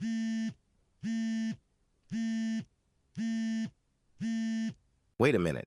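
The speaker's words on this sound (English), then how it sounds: "That noise is my Apple Watch alarm." An Apple Watch alarm goes off in five evenly spaced, loud buzzing beeps about a second apart, followed by a brief spoken remark.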